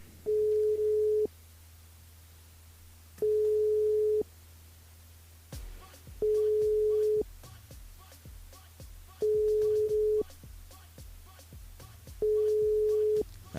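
A telephone ringback tone on a radio station's switchboard line sounds in steady, evenly spaced long beeps with silent gaps, with faint clicks and line noise between them, while calling a listener back.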